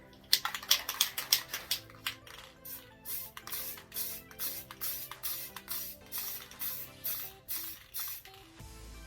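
A white spray paint can hisses in quick short bursts, then settles into a steady rhythm of brief sprays onto a tumbler, close and moderately loud, with no talking.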